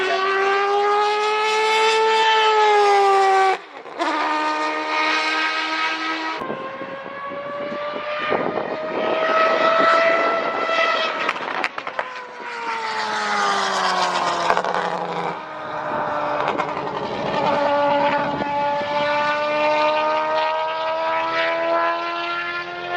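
An Aston Martin V12 Vantage GT3 race car's V12 engine howls loudly and close at the Nürburgring, pitch climbing steadily through the gears with abrupt drops at each upshift, sustained for the whole stretch with no voices.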